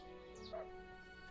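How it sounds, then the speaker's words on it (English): A dog in the video game Everdream Valley lets out a brief, faint yip or bark over a steady musical backdrop. "Oh, look at the dog."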